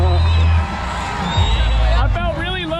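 Crowd at a Nitro Circus show in Dayton, Ohio cheering and whooping in a big shared roar, with shouting voices close by over a low rumble of background noise.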